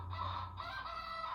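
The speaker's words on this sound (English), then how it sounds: "before the cock crows." A rooster crows in one sustained, drawn-out call that sounds close and clear, with no speech over it.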